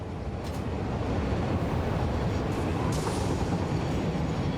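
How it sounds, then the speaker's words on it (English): Trains running in the factory-building video game Satisfactory, a steady rumbling rolling noise with a broad hiss that continues evenly throughout, with no voices. "these trains basically pull the materials from all the different factories around the map and bring it back to the main giant factory over there"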